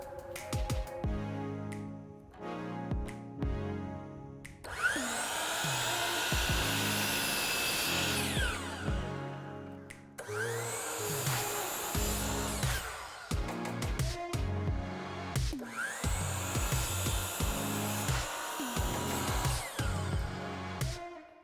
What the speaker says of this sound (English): So now we're going to be cutting our pieces of MDF.